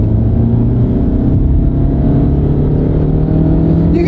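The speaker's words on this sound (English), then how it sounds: "We'll give it a little gas." A car in sport mode accelerates under light throttle, its engine note holding steady and loud close by for the whole stretch, with no talking.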